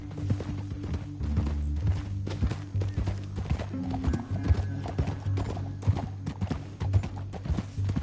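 Hooves clopping steadily as horses ride through a canyon in Red Dead Redemption 2, close and rhythmic over a low droning game score, with no talking.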